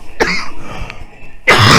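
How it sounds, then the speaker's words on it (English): A person who is sick coughs sharply near the microphone, a short burst followed after a pause by a second, louder and longer cough, with no speech. "I'm still sick, and I try not to cough in your faces."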